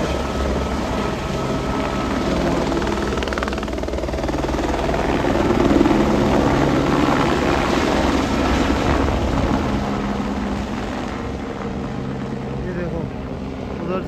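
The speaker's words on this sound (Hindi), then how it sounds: "अब हेलीकॉप्टर का लास्ट चल रहा होगा" A helicopter flies near Kedarnath on a misty, foggy day, its broad steady rotor and engine roar continuous and fairly loud, swelling slightly midway through, with faint voices beneath.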